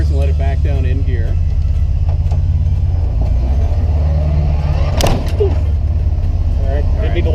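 Engine of a 14-day flattie, an old flatbed truck, rumbling steadily at low idle as it backs up and drops into gear, with a clunk midway and a man giving instructions throughout.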